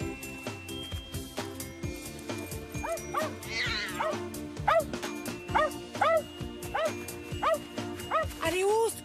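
A dog yips and barks repeatedly in short, whimpering bursts in a busy indoor room, close and fairly loud over a layer of background voices and other household sound.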